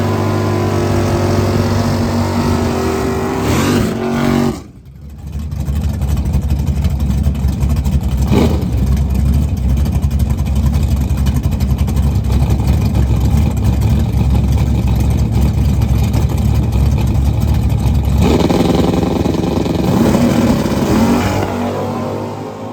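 A drag race car makes a run on the strip, its engine roaring loud and sustained after a brief dip, then fading as it pulls away, with no talk.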